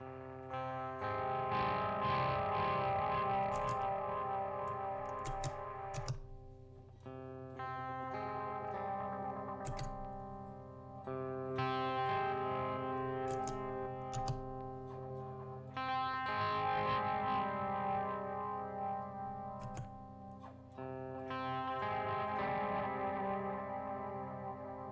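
A heavy-metal electric guitar runs through a chain of effects pedals, its sustained distorted chords and notes washing out in long reverb tails, loud and continuous, with brief drops between phrases.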